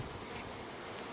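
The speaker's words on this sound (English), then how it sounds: "They're pretty mellow bees considering." Honeybees buzz during a package install, a dense, continuous hum of many insects heard close by.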